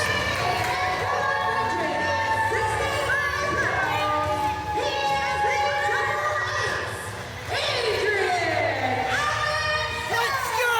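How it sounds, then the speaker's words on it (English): Wrestling crowd in Richmond, Kentucky cheering and shouting at a live event, a dense roar of high excited voices with whoops swelling and dipping, briefly quieter near the middle before rising again. "Adrian Alexander introduced to the crowd here in Richmond, Kentucky"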